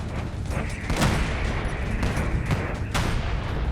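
Railgun rounds slam into an artillery cannon in Space Engineers, a dense barrage of heavy booming impacts and gunfire layered over a constant rumbling din.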